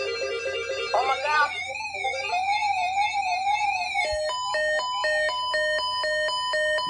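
A Whistler WS1025 electronic siren runs through several tones up close, first a warbling wail, then a steady wavering tone, then a rapid stuttering yelp pattern.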